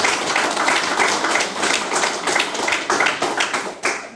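An audience in a church service claps together in a dense, rippling burst of applause that holds steady, then thins out toward the end.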